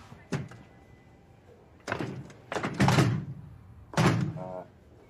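Someone tries to open a locked hospital door: several separate thunks and rattles of the handle and door come in bursts, close by, with short quiet gaps between them.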